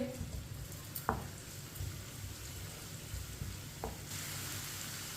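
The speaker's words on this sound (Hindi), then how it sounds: "1 बारीक कटा हुआ प्याज, प्याज को मिक्स कर लेंगे।" Finely chopped onion is mixed in hot oil in a pan for chana dal, giving a soft continuous sizzle broken by a couple of sharp spoon knocks against the pan.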